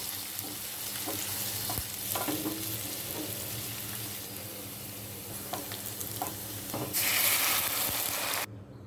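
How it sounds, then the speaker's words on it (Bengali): Dal being tempered in hot oil sizzles continuously, with stirring clatter and scrapes throughout. A brighter, louder burst of frying comes near the end before it cuts off. "ডালটা বাগার দেব"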